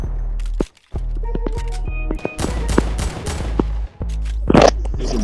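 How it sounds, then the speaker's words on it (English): Gunfire in the mobile video game Fortnite, with sharp clustered shots and bursts, some rapid and some spaced, plus clicks and impacts filling the whole stretch. "Who the fuck would be shooting?"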